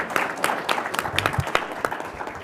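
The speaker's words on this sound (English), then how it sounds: "Let's give them a round of applause." An audience applauds at a board of trustees meeting, a modest scattering of distinct claps with an irregular rhythm over brief moments of room noise.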